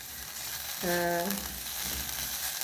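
Tomatoes and onions cooking in a non-stick pan give a steady, close sizzle, with a short tonal hum rising over it near the middle.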